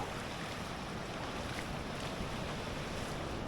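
Strong ocean waves on a New Zealand beach backed by large dunes make a constant, broad roaring wash with wind buffeting the microphone, steady and unbroken throughout with no voices.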